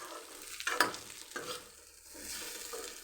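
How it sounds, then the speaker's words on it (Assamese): Maggi noodles with masala are stirred in a kadai, a soft scraping and light sizzle, with a couple of sharper utensil knocks near the start, close and fairly quiet. "এতিয়া মেগীখিনি ভালকৈ লৰাই দিম।"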